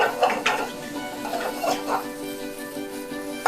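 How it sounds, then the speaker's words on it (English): Hedgehog mushrooms sauteing in a hot pan with onion confit, giving a soft sizzle under repeated light clinks and scrapes of a utensil stirring against the pan, moderately close. "So I'm going to start by sauteing these hedgehog mushrooms."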